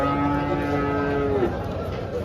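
A cow at the Dhule cattle market, where HF and Jersey cows are sold, gives one long, close moo over a continuous background of market noise.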